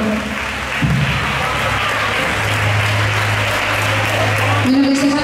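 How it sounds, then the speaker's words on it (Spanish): Audience applause at a pageant crowning queens and misters during a town's Rosario festival, a loud, steady wash of clapping from a crowd that runs through the whole stretch, with a low tone and a voice near the end. "un fuerte aplauso."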